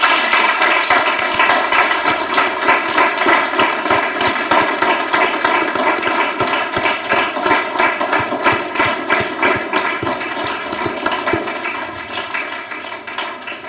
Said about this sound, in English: a big round of applause for the graduating students.